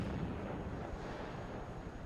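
D-20 howitzer artillery fire in the WARNO strategy game, a dense, continuous rumble of distant booming blasts rolling over one another without pause.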